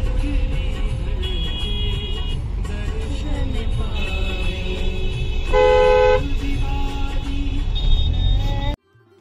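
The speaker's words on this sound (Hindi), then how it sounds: "हम जाम में फंसे हैं" Car horns toot repeatedly and overlap in a traffic jam on a busy road near Triveni Ghat in Rishikesh. The steady engine rumble of idling vehicles fills the street beneath the loud honks, which are heard up close.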